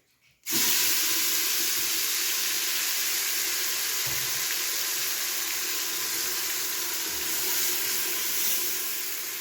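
Tomato and onion paste drops into hot oil with browned garlic and ginger for a mixed dal tadka gravy, setting off a sudden loud sizzle that holds steady and continuous to the end.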